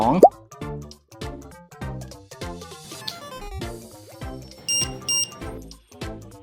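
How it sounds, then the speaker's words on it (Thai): A HOCO E100 GPS tag has its base snapped back in, with a plop at the start and then two short high beeps near the end, over soft background music. "เมื่อใส่ฐานกลับเข้าไปจะมีเสียงดังขึ้น"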